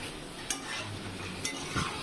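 Beef do pyaza is stirred in a pan after salting: a quiet, low frying hiss with two or three brief scraping strokes of a spoon, close by.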